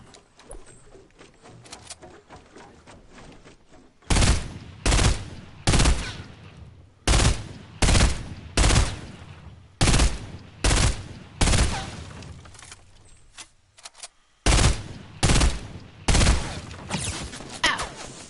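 Video game gunfire in sharp, loud bursts of rapid shots, separated by brief gaps, following a quieter stretch of soft clicking and scuffling.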